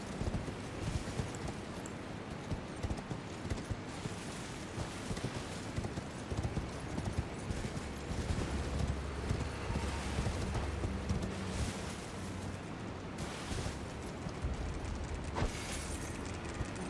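Horse hooves clip-clop steadily through a dense, loud game soundscape while riding into combat in Elden Ring: Shadow of the Erdtree, with rumbling effects and occasional whinnies mixed in.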